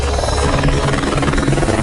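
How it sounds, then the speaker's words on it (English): A rescue helicopter arrives at a remote landing zone in rough wilderness terrain, its steady rotor and turbine drone filling the air loudly and continuously with no talk over it. "the heli arrives on site"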